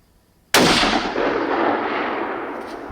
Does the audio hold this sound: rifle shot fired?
yes